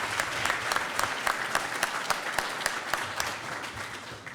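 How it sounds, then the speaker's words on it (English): An audience claps warmly at an appreciation event, with a dense, even patter of many hands and some sharper individual claps standing out near the listener. The applause holds steady for a few seconds with no speech over it. "So, big round of applause."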